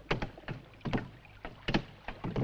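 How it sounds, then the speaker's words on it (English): A small rowing boat draws near on water, with a series of rhythmic oar strokes and splashes, fairly quiet and close, without any voices. "Boat approaching, sir."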